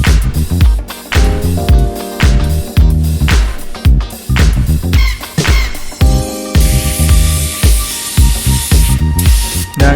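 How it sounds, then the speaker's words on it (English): A spray gun hisses in repeated short bursts, spraying colour-changing pearl paint thinned over a black base on brake parts, loud and close, with brief pauses between passes and music playing underneath. "put it in my spray gun and spray it over the black base"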